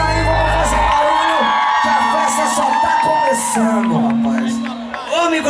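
Party crowd at a funk dance event shouting and cheering loudly on cue from an MC, a dense roar of whoops and yells over steady music with a low bass hum.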